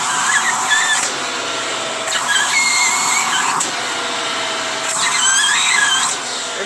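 A Shark Rotator vacuum cleaner runs with strong suction, a loud steady whine and rushing air that shifts in tone several times as the nozzle is lifted and lowered, close up with no talk.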